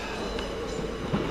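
A train at a railway station near Hazel Grove, heard as a steady low rumble and hum of carriages with faint rail clatter, continuous and moderately close, with no talk.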